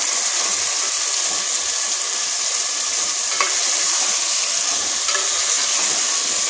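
Chicken frying over medium gas in a pan for chicken tehari, with a steady dense sizzle throughout and occasional faint scrapes as the pieces are stirred and turned, no voices.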